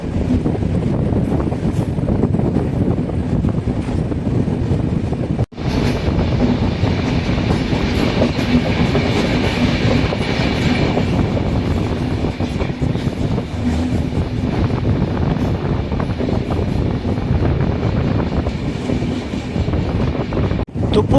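The Mumbai Kurla Express rumbles steadily along the rails through the Thoppur ghat section, with continuous clattering and wind buffeting, loud and close, with no voices.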